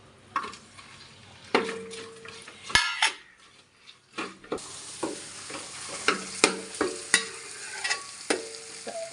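Chopped tomatoes sizzle in a pan with green chillies and ginger while a utensil scrapes and clinks against the metal in repeated strokes, with no talking.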